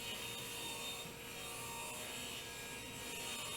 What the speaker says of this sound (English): I'm going to use pine 3/4 inch, and I'm cutting these to about 2 3/4